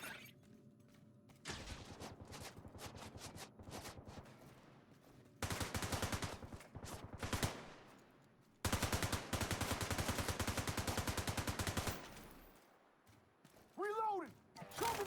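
Rapid bursts of rifle gunfire in The Division 2 during a solo PvE hostage rescue, loud sustained volleys broken by short pauses, with game voice lines underneath.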